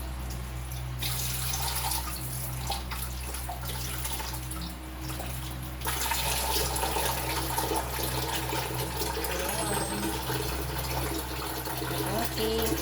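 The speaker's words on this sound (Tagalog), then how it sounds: "Maganda yung hugasan pa natin ng maigit." Market-bought food for sour soup being washed under a running tap, a steady close splash and trickle of water into a sink with faint dripping, continuing throughout.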